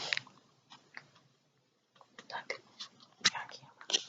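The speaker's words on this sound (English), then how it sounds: "you want to see my dog again? He's right here." A pet dog chewing indoors, making soft, irregular crunching and gnawing clicks in scattered bursts, close by and fairly quiet, with a brief pause in the middle and faint breathy whispering sounds nearby.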